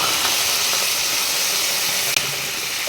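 A cup of water hits a hot pan of cauliflower kuruma with a steady, loud sizzling hiss that continues throughout, broken by one brief sharp click near the end.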